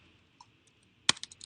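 Keys click on a computer keyboard while MATLAB code is entered, a few faint taps followed by one sharp keystroke and a short quick run of clicks.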